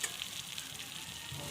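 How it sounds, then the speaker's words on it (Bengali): Sizzling spice masala in a pan, cooked with jackfruit and potato, hisses steadily and close as a little water goes in, a brief, even frying crackle. "এবার আমি দিয়ে দেবো জল।"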